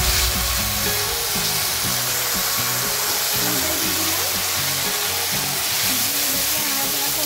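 Loud, steady sizzling of a ground ginger and cumin spice paste frying in a pan for a home-style Bengali shukto, a constant hiss with occasional stirring scrapes underneath.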